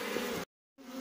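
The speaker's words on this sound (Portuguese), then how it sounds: "As abelhas aqui, a gente vai dar uma sacudida para cair o maço de abelhas dentro da caixa" Apis honey bees buzz in a dense, steady drone while being shaken from a gourd bait into a hive box, cut by a sudden gap of silence before the loud swarm hum returns.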